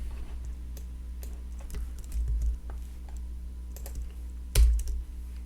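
Computer keyboard typed on to rename a software layer: scattered, fairly faint keystrokes in small bursts, with one louder clack cluster near the end and no speech.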